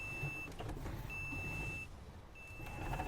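Repeated electronic reversing beeps from an Iveco 190-38 truck in Euro Truck Simulator 2, sounding in long steady tones separated by short gaps over a low idling engine rumble.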